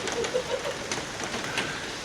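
Rain falling at a mountain campsite, a steady patter of drops on surfaces close by, with faint irregular taps throughout.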